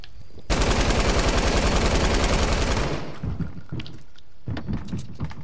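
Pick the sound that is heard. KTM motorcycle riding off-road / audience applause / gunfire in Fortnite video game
gunfire in Fortnite video game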